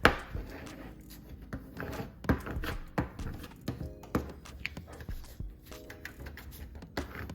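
A sublimation transfer sheet is scraped down with a tool onto a surface, giving a series of soft, close taps and scrapes in an uneven rhythm, quiet and alone.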